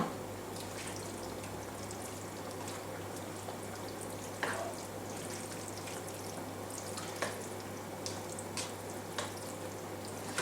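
Minced beef simmering in a tomato and basil pasta sauce, a steady low sizzle and bubble with occasional scrapes and clicks of a spoon stirring through the pan, close and fairly quiet.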